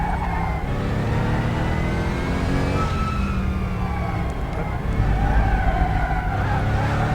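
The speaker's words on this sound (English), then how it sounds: "this AMG is actually going around here quite nicely indeed" Mercedes-AMG GT4 race car lapping Nogaro circuit in RaceRoom Racing Experience, a steady loud engine drone with rising and falling pitch through gear changes, continuous and close.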